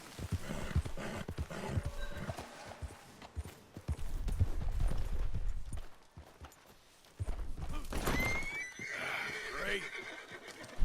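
A horse in the Red Dead Redemption 2 video game whinnies loudly, while hooves clip-clop and game characters talk throughout.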